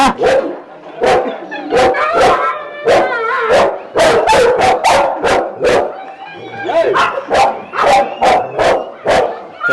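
Several dogs at an animal shelter bark loudly and close by in rapid, overlapping bursts, with yips and whimpering howls mixed in, continuing without a break.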